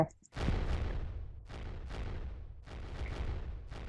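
Gunshots in the party video game Pummel Party: a series of heavy booming shots spaced about half a second apart, fairly loud and close, with a brief quiet gap near the start.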